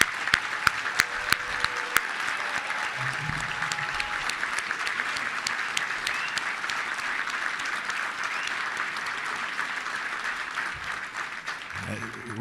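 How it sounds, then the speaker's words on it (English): Warm, sustained audience applause for veterans standing at a Little Rock Touchdown Club luncheon on Veterans Day, a broad steady wash of clapping with a few sharp close claps early and brief low voices mixed in. "Let's give them a big round of applause."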